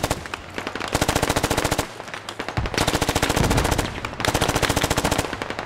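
Sustained machine gun suppressing fire in the video game Squad, rapid loud bursts of several seconds each separated by brief pauses, close and dominant.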